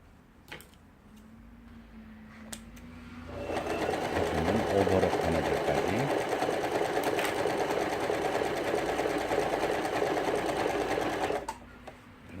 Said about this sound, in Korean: 이 기계 이제 중요한 부분은 오버록 바느질이라고 하죠